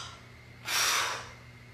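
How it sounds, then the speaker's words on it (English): A single big inhale taken during a floor workout stretch, a broad breathy rush that swells for about half a second and then fades, close and fairly loud against a quiet room. "Big inhale."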